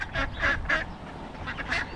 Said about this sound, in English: Oh, look at this duck following me.